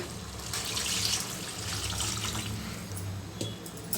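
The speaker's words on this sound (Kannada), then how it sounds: "ಈಗ ಇದಕ್ಕೆ ನೀರು ಸೇರಿಸ್ತಾ ಇದ್ದೀನಿ" Water is poured into a pot of mutton gojju (mutton gravy) as it cooks, making a steady, close splashing rush that runs unbroken for the full few seconds.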